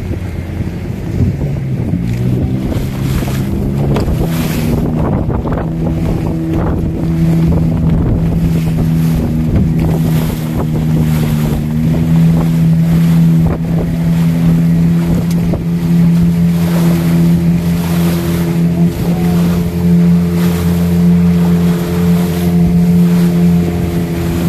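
A fishing boat's large outboard motor runs steadily at sea during a fishermen's sea-offering procession off Jetis, Nusawungu, Cilacap. The drone is close and constant under heavy wind buffeting and splashing water, with no voices.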